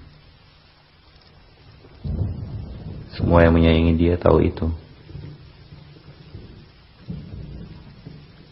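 Light drizzle falls steadily while low thunder rumbles in the distance, and a voice speaks over the soft rain for a few seconds.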